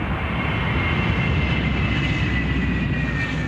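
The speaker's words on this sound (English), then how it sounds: "This is the world's highest flying plane." Steady, even drone from the world's highest flying plane, a jet fuselage fitted with glider wings, rumbling continuously without pause or change.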